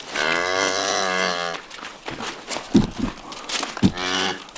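Mother cows at a Wyoming ranch low loudly and close by, a long drawn-out moo followed by grunting and scuffling, then another rising moo at the end.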